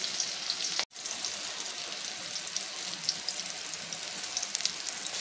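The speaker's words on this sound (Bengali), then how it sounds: "তেলেতে আর এই টমেটো তেলেতে এই কাঁচা লঙ্কাগুলো প্রথমে দিয়ে দিচ্ছি, টমেটো কুচি" Green chillies and chopped tomato sizzling in hot oil in a kadai, a close, continuous crackling hiss broken by one brief dropout near the start, with no voices.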